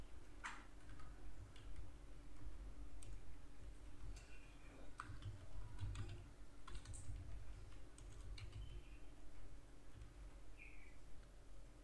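Text is typed on a computer keyboard in a Word document, giving faint, scattered key clicks at an uneven pace over a low room hum.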